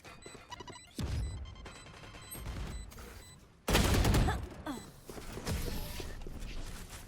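Grenade blasts and bursts of gunfire in the tactical shooter Valorant, several sharp close explosive impacts, the loudest midway, with rattling shots and crashing debris between them; no talk over the bursts.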